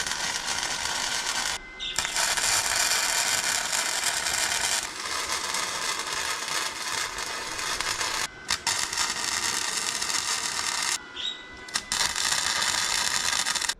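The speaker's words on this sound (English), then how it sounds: "Let's get the few tack welds on each side in" Tack welding on a trailer frame gives a loud, steady electric crackle in several bursts of a few seconds each, split by short pauses, close up with no talking.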